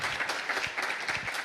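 Warm applause from the audience at a tango community meeting, steady dense clapping filling the room without a break.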